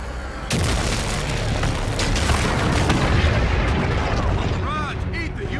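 Heavy explosions and weapon fire in a Call of Duty Infinite Warfare campaign battle against a super carrier: a loud, sustained rumbling roar of blasts that starts abruptly, with a voice under the noise.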